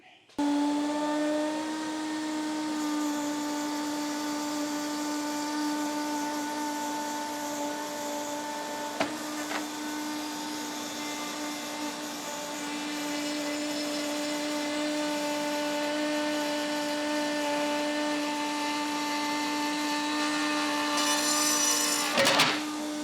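A wood router fitted with a down-cut bit runs at a steady high whine, its strong harmonic hum holding throughout, with a brief cut-in knock midway and a rising burst near the end.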